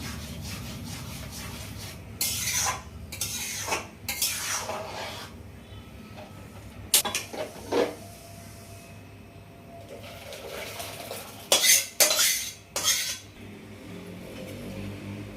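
Pointed gourd poppy-seed curry being stirred in a pan, with several short scraping and rubbing bursts of a spoon against the cookware over a low, steady background hum.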